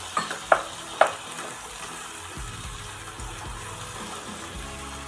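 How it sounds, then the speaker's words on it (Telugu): Vegetable pieces deep frying in a pan, a steady low sizzle and bubbling throughout with a few sharp utensil clinks near the start, close and alone. "ఇప్పుడు మనం ముక్కలు వేసుకొని డీప్ ఫ్రై చేసుకున్నాము"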